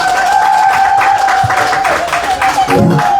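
Crowd applause at an event in Kisii, a steady mass of clapping heard alongside a sustained tonal hum.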